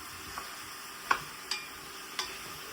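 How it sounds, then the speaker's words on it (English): Quiet sizzling of ground meat browning in a pan, with a few sharp scrapes and clicks of a utensil stirring at intervals. "we're going to brown it in this pan"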